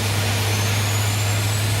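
An Airbus A350 engine spools up in a flight simulator game, a steady hum and broad whooshing roar with a faint rising whine, constant and fairly loud.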